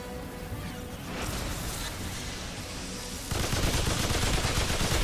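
Engineer's turret in Remnant 2 firing during a boss fight against the Awakened Bloat King, a dense continuous gunfire rattle that steps up louder partway through, with no voices.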